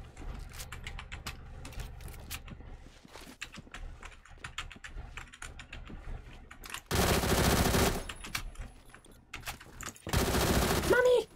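Sustained automatic fire from an AK-107 rifle in the shooter game Phantom Forces, two long loud bursts near the end after quieter scattered shots and clicks, with brief talk in between.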